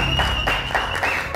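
An audience applauding at a family television show, a short burst of steady clapping from a crowd heard under a faint tone.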